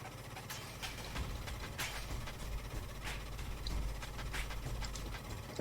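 Steady low engine rumble from the video game Chaos on Deponia, a continuous mechanical drone with faint intermittent clicks over the top, no voices.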